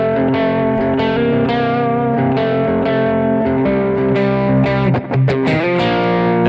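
Electric guitar played through heavy distortion effects, sustained crunchy chords ringing steadily and loud with a brief dip near the end, for a worship song.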